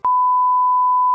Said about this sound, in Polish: Chcemy sygnał użyteczny 1 kHz